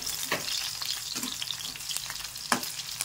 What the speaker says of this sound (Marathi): सगळ्या मिरच्या आपण अशा पद्धतीने तळून घेऊ।